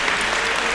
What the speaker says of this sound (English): A thunderous loud of applause for Xavi.